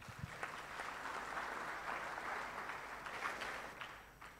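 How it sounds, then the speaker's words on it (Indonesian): Faint, distant applause from a congregation during a church service, a soft even patter of clapping that swells slightly midway and stays low throughout. "tepuk tangan dulu buat Tuhan"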